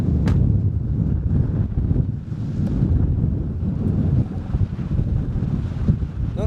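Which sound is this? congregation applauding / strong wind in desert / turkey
strong wind in desert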